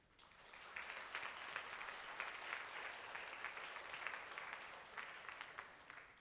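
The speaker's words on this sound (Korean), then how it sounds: "우리 다시 한번 일어나면 축복의 박수 치겠습니다." A church congregation applauds newlyweds with steady, moderately distant clapping that holds at an even level for several seconds.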